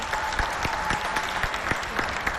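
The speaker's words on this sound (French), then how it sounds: "Applaudissez pour Zainab," A small audience at a show claps for Zainab, light, somewhat sparse applause with distinct individual claps over a brief few seconds, fairly quiet.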